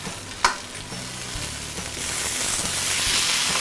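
Fish pan-frying in a pan, a steady broadband sizzle that swells louder over a few seconds, with one brief clatter of a spoon or spatula near the start and no talking.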